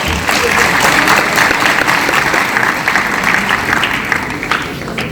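An audience claps steadily at a stage event, a dense, even wash of applause that fills the whole stretch and fades only slightly toward the end, with no speech over it.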